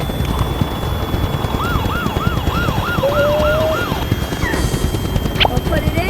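Toy ambulance siren wailing in a steady rising-and-falling pattern of about six cycles, loud and close over a busy background of children's play talk and clatter.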